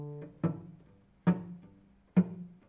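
A beginner's cello note bowed three times with poor, thunky tone, each stroke a short percussive attack around the same low pitch that dies away quickly rather than ringing, close and fairly quiet with no talking.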